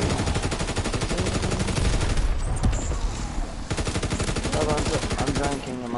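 Rapid automatic gunfire in a zombie shooter game, a dense, steady stream of close, loud shots that breaks off briefly mid-burst and then resumes, with faint talk underneath.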